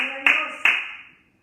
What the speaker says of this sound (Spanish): Denle un aplauso al Señor Jesucristo ahí en sus hogares donde usted se encuentra.